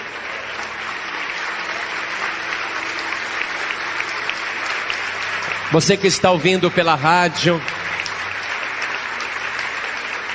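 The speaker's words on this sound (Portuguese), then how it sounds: "vamos aplaudir o Senhor" A church congregation applauds steadily in a continuous wash of clapping. Partway through, someone speaks over it for a couple of seconds before the applause carries on alone.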